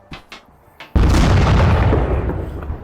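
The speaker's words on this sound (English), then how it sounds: "Now we get to the explosives." An explosive detonates in the VR voxel destruction game Teardown, a sudden loud boom after a few faint clicks, followed by a sustained rumbling roar of collapse that slowly fades.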